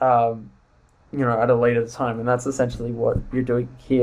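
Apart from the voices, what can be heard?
None of the usual background noises is heard.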